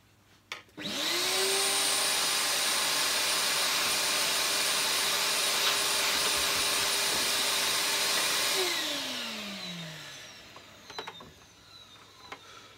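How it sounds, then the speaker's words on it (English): Vacuum cleaner being used to hoover, switched on with a click and holding a loud steady whine and rushing airflow for about eight seconds before winding down with a falling pitch, followed by faint clatter. "Let me just put the vacuum on them."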